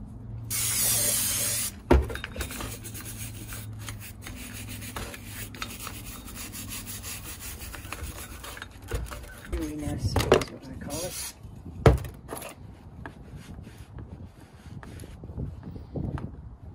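An MGB front brake hub being cleaned of rust by hand, with close, quiet scrubbing and rubbing strokes, a short spray burst at the start and a few sharp knocks and scrapes against the metal.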